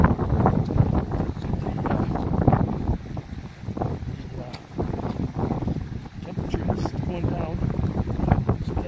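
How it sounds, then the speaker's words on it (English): Wind gusts outdoors against the microphone, a rough, rumbling buffeting that rises and falls, with someone talking over it. "Once in a while, you'll hear the wind."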